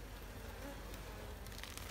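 Honeybees buzz at a hive during queen rearing, a faint, steady insect drone holding evenly through the short stretch.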